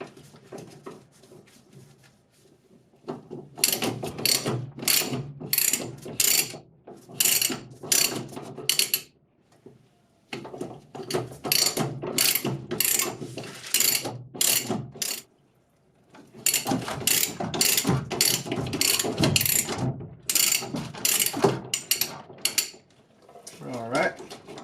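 Quick bursts of ratchet clicking, loud and close, repeat in several runs with short pauses between them as a fitting on a Grohe shower valve is tightened during a bathroom remodel.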